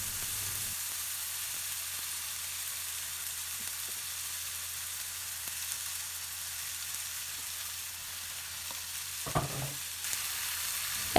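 Paneer fries with softened tomatoes and spices in a pan, a soft, steady sizzle that holds evenly throughout, with a few small clinks near the end.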